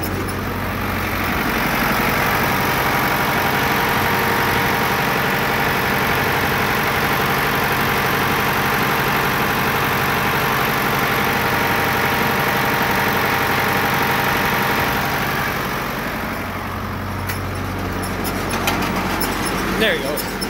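A pickup truck engine runs close by at a high, steady roar for most of the stretch, then settles back toward idle near the end.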